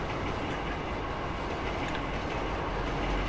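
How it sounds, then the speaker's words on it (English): A train rolls past in a video game, a steady, loud, dense rumble with faint rail clatter that holds evenly throughout, no voices. "Let's go catch this train."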